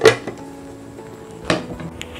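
A metal lid set back onto a pan of egg pepper fry on the stove: a sharp clank at the start, a lighter tap, then a second clatter midway, with quiet simmering between.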